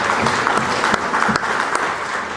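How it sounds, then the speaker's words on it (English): An event crowd applauds vendors and volunteers at a convention opening ceremony, giving a loud, dense patter of clapping with a few sharper claps standing out, lasting a couple of seconds. "So a round of applause for our vendors and our volunteers."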